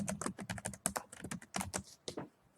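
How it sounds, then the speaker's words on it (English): Rapid typing on a computer keyboard, a dense run of crisp, close key clicks in uneven bursts with a short pause near the end, no voices. "I type my comment, click out of it, now my comment is there"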